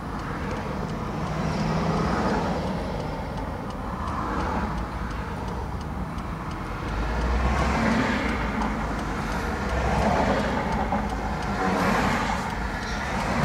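Cars idling and creeping in slow traffic at a light on Sand Canyon in Irvine, a steady low engine hum with gentle swells of passing vehicles, moderately faint and continuous with no talk.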